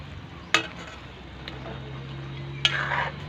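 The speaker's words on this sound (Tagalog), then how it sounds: "Haluin natin." Pineapple chicken (pininyahang manok) stirred in a cooking pot, giving two short scraping strokes over a steady low sizzle of simmering food.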